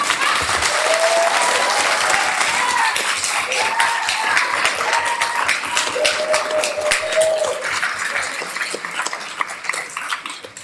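Clapping from the public gallery at a regional council meeting, loud and sustained for about ten seconds with sharp individual claps and a few whistle-like or cheering tones, gradually thinning toward the end.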